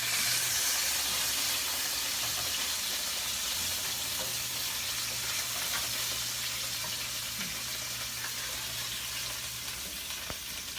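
Chili chicken wings frying in oil on low fire: a steady, even sizzle and hiss with a faint low hum underneath, continuous and close, with no talking.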